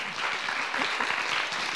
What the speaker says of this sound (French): on peut effectivement l'applaudir beaucoup